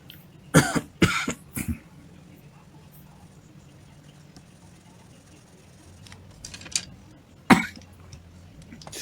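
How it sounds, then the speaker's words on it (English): A person sketching at a desk coughs in a quick burst of three harsh coughs early on, then a quiet stretch with faint background hiss, followed by one more sharp cough later. "Much as I try to avoid the coughing, I always end up coughing."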